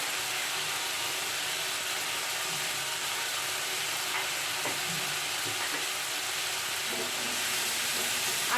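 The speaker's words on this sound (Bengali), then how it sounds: "মশলাটা ভাজা হয়ে গেছে, দেখুন মশলা থেকে তেল ছেড়ে গেছে।" Ground cumin and turmeric fry in hot oil with a steady, loud, unbroken sizzle, accompanied by occasional faint stirring scrapes, with no talk.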